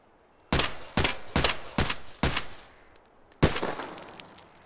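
Six loud, sharp gunshots from an AR-15 in the VR game H3VR, fired one at a time at steady intervals with a longer pause before the last, each with a short decaying tail.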